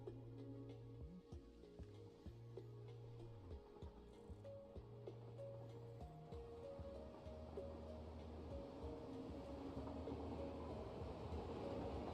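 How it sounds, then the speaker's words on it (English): A train in a video game rumbles steadily with low mechanical tones and rolling clatter, continuous and fairly close, gradually swelling in noise over the stretch. "I'm gonna park this train"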